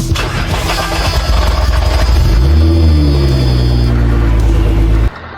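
Scania 16.4-liter V8 truck engine, a loud deep rumble rising as it revs up, with a high whine overhead, then cutting back to a lower idle at the end.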